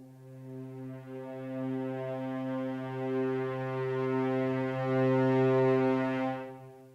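A sustained low brass chord from the Spitfire Abbey Road One Grand Brass sample library swells gradually from soft to loud over several seconds, then fades away.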